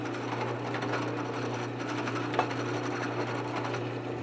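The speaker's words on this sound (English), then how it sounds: "The next thing is to drill a hole, 3/16 hole, right in the center of this" A drill bores a 3/16 hole in plastic at low speed, producing a steady, even mechanical whir that continues unbroken and moderately close throughout.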